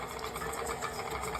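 An electric kitchen mixer whirs with a steady, close motor hum as eggs go into the batter, brief and without talk.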